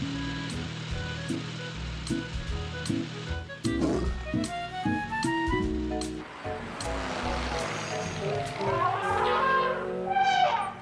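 A lion roars in a children's cartoon, with several growling roars mixed among layered effects and tonal sounds, fairly loud and close throughout.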